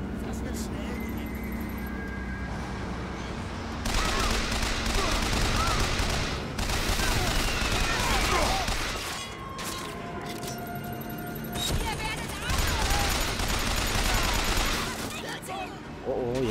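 Gunfire in BioShock Infinite, with loud stretches of rapid shooting and clattering action alternating with quieter gaps over a steady game hum, while someone talks at times.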